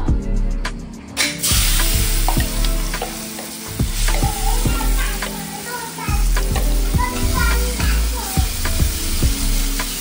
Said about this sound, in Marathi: आपलं तेल एकीकडे तापायला ठेवलंय, हाय फ्लेमवर तेल तापलंय.